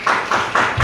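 A few sharp hand claps in a quick, uneven rhythm, close and fairly loud, at an empowerment training event as a woman is invited onto the stage. No talk.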